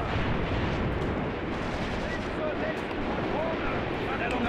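Dense battlefield noise in the World War II tactics game Graviteam Tactics: Mius Front, with mortar and gunfire forming a continuous loud roar of overlapping blasts, while a voice talks over it.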